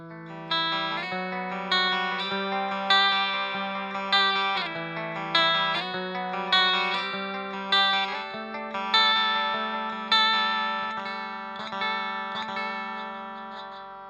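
Electric guitar, a Forest-Green Sahana Nyauli Standard with coil split engaged, playing a series of strummed chords and arpeggios with a slightly thin, bright tone and effects, each phrase ringing out then decaying, no voices.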